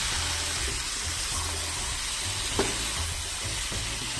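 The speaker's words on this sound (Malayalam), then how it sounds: "നല്ലതുപോലെ ഈ കൂട്ടിനെ ഇളക്കി യോജിപ്പിക്കുക" Pepper chicken masala frying in a pan, a steady close sizzle with scraping stirs and one sharp clink of the spoon against the pan.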